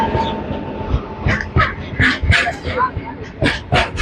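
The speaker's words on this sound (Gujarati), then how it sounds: "માલગાડી છે ગાઈસ અત્યારે" A freight train rolls past on the rail line, a loud rumble with rhythmic clatter. Excited talk runs over it throughout.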